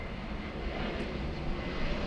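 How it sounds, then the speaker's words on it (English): Jet airliners at LAX, a Delta Airbus A350 and an Air Premia Boeing 787, give a steady distant engine roar that swells slightly toward the end, with no voices. "A350 Delta from Paris on the left. On the right, Air Premia 787 from Seoul."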